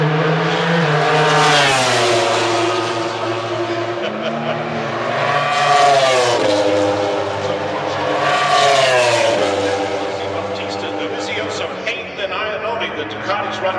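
MotoGP racing motorcycles, including Ducatis, sweep past the grandstands at the Circuit of the Americas on the final lap of the 2013 race: loud, high engine whines rise and fall in several passing waves while a voice talks over them.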